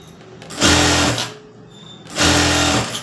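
A sewing machine runs two separate bursts, each roughly half a second to a second long, stitching along the edge of blouse fabric. The motor hums loud and close with a short pause between runs and no voices.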